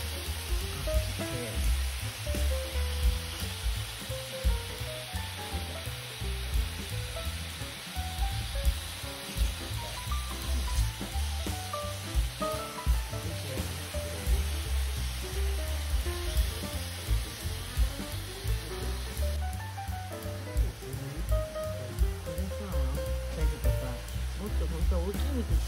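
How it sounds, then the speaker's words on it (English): Beef slices sizzling steadily in a hot pan for sukiyaki, a dense continuous crackle and hiss running throughout, close and moderately loud with no talking. "Once the color changes, flip it over and quickly cook from both sides."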